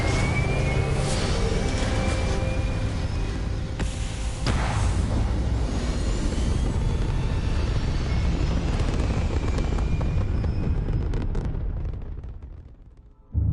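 Spaceship retro thrusters firing during takeoff in the Starfield video game, a loud sustained roaring blast with rumbling and a few sharper bursts, fading out near the end.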